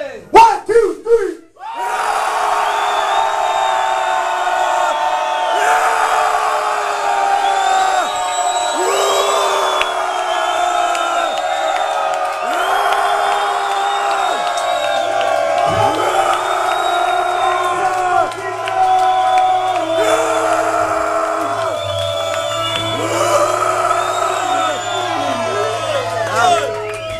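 A concert crowd in Bucharest screams as loud and as long as it can, a sustained massed roar of voices lasting nearly half a minute after a short shouted count-in.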